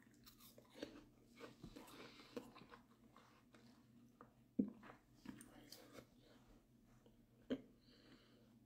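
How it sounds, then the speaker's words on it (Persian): At a breakfast of apple and tea, someone eats close to the mic, with soft, quiet chewing and mouth sounds broken by a couple of sharper bites or swallows. "اصلا قورتم میدم صداش میاد."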